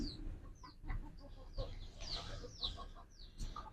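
Decorative chickens and roosters cluck nearby in short, irregular bursts, with a few higher squawks mixed among the low clucks.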